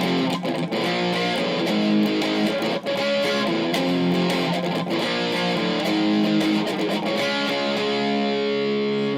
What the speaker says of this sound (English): I'll show you how it sounds right now with distortion.